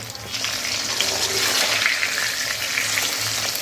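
Brinjals fry in oil in a pan while being stirred, a close, steady sizzle with a low scraping undertone from the stirring.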